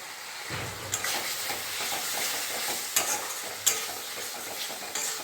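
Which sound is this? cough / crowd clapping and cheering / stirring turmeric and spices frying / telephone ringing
stirring turmeric and spices frying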